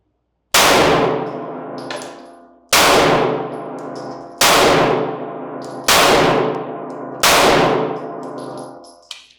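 Five loud pistol shots from an HK CC9 subcompact handgun, each followed by a long ringing clang from a steel target, spaced evenly about two seconds apart outdoors, no talking.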